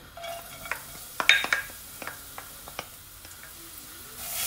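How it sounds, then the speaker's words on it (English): Fresh garlic sizzles softly in vegetable oil for a curry lamb dish while a utensil stirs it, with a few sharp scrapes and clinks against the pan rising above the quiet frying hiss. "just stirring your garlic"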